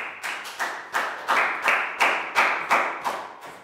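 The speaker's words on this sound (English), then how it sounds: "A big round of applause for Chu." Year 3 students in a classroom clap together in a steady, evenly paced rhythm of about ten loud, sharp claps, close by and with no talking.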